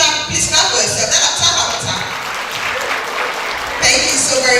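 Audience applause at a women's forum on building a secure future in Katsina fills the hall steadily, with a mix of voices over it and a louder swell near the end.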